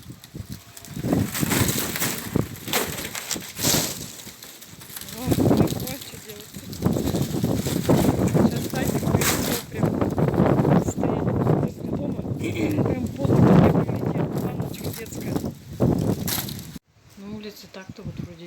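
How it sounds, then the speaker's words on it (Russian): Strong wind buffets a damaged greenhouse in gusting waves, loud and roaring close to the microphone with rattling bursts, dying away abruptly near the end. "Но ветрище зашкаливает просто вообще."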